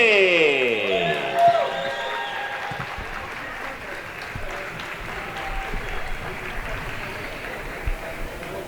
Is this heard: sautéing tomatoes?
no